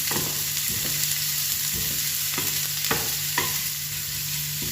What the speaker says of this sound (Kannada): ಈರುಳ್ಳಿಯನ್ನು ಸೇರಿಸ್ತಿದ್ದೀನಿ ಕಟ್ಟರ್ ಮಾಡಿ ಫ್ರೈ ಮಾಡ್ಕೋಬೇಕು